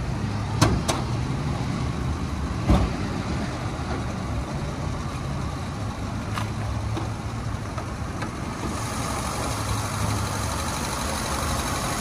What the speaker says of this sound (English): This engine just sounds fantastic